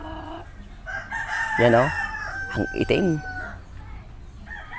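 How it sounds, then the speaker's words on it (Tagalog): Breeding rooster, a big black bird, crows loudly twice at close range in drawn-out calls, with someone speaking briefly before and between the crows. "Breeding ng manok."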